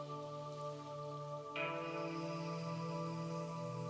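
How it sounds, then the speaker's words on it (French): Torrential rain pours steadily in a dense, even wash of drops, soft and continuous under a sustained droning tone that shifts midway, with no voices. "Une pluie torrentielle."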